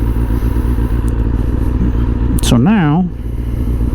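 Kawasaki ZZR600 sport bike running close by, a steady buzzing engine drone under a man's speech, with a brief scrape and a rising, wavering engine note near the end.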